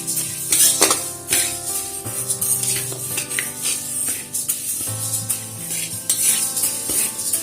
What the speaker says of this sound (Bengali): মুগ ডালটাকে খুব ভালো করে ভেজে নেব।